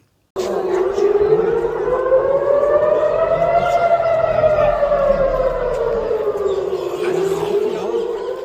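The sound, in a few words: air raid sirens sounding over Tel Aviv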